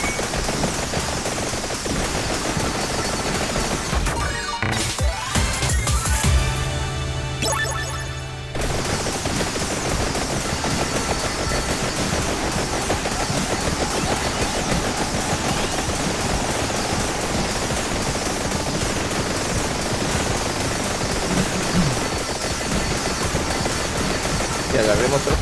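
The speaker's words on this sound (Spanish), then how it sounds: "Generan explosiones, más explosiones." Rapid, dense explosions from the co-op video game Vampire Survivors crackle in a continuous barrage, briefly dropping out midway before resuming, with game effects layered throughout.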